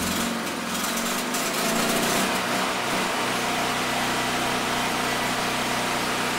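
A small petrol generator converted to run on gas drones steadily at a high, constant pitch, close and loud without a break.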